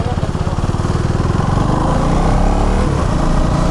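KTM Duke 390 (2024) motorcycle engine revving at night, a loud, steady, close engine drone with a rapid pulsing beat that rises slightly and holds throughout.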